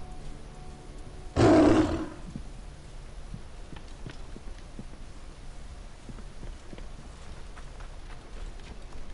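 In Assassin's Creed Origins, a lion lets out one loud, close, half-second roar, followed by quieter hoof clip-clops and ambient game noise.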